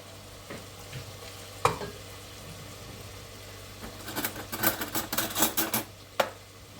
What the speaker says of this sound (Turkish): Şimdi sebzem kavruldu.